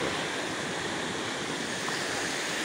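Water of the Cibentar river flowing beneath a villagers' footbridge in the countryside, a steady, loud broadband rush with no breaks and no voices.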